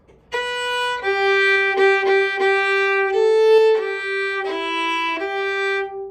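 A fiddle plays a short bowed melodic phrase, notes changing every half second or so, clear and close with no voices.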